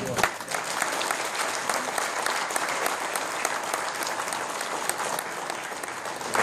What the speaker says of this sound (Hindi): इस अभूतपूर्व काम के लिए आप लोग दिल खोल के ताली बजा सकते हैं